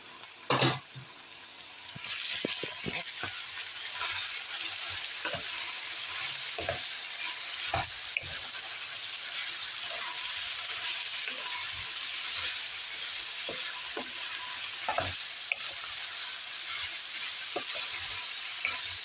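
Carrots, beans and broccoli stir-frying in a pan for pancit, a steady loud sizzle throughout with scattered sharp clacks and scrapes from stirring, no talking.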